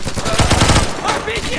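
Automatic gunfire bursts in the Insurgency video game during a co-op match, rapid rattling shots with an RPG threat nearby, loud and close, with a voice shouting briefly over the shooting.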